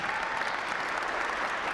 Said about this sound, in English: Let's give the panelists another round of applause